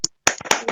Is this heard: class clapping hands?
yes